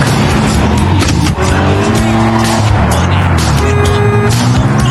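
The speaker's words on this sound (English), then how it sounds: "As the engines roared to life, the brutal selection race officially kicked off." Race car engines roar loudly together while tires skid and squeal, a dense, harsh wall of revving and screeching through a competitive selection race.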